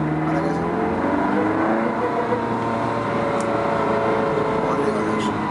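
A Ferrari 360 Modena engine drones steadily louder as the car accelerates, heard from inside the cabin as a continuous rising tone beneath people talking.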